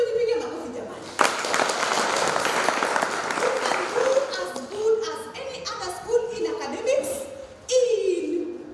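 Secondary school students burst into applause at a student council leadership training, loud clapping filling a few seconds before a speaker's voice carries on over fading claps.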